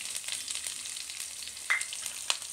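Thinly sliced onion sautéing in oil with popped mustard seeds for tiffin sambar, a soft steady sizzle with a few light clicks and taps from the spoon.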